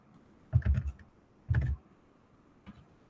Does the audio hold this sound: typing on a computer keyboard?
yes